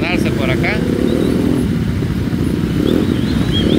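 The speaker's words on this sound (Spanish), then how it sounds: "Siguen entrando más motocicletas a estacionarse por acá." Motorcycles arriving to park during a group ride in El Salvador: several engines idle and rumble steadily close by, with someone talking over them.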